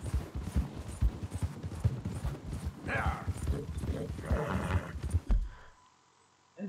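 Horse hooves clip-clop in a quick steady rhythm in Red Dead Redemption 2, loud and close for about five seconds before cutting off into near silence.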